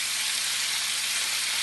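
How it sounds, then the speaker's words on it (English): Steaks and diced beef fry in a very hot pan, giving a steady, bright sizzling hiss that stays even and close for the whole short stretch, with no voices. "And that's what you should be hearing, that sizzle."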